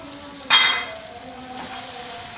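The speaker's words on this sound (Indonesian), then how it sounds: "Terus aduk-aduk supaya bumbu sama santannya tercampur rata." A beef stew with sweet soy sauce and coconut milk is stirred in a pan. A short scraping burst comes first, then a soft, steady sizzle continues underneath with no talk.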